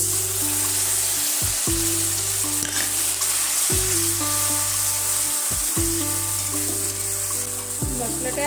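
Tomatoes fry in a pan for a Bengali-style lemon chicken roast, a constant close sizzle that runs unbroken, with faint tonal hums sliding in and out behind it.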